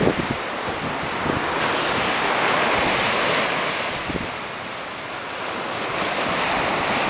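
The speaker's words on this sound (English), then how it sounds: "you like the waves?" Ocean waves roll onto a beach at sunrise in a steady, loud wash of surf. Wind buffets the microphone and there are gentle swells and dips in the roar, with no voices.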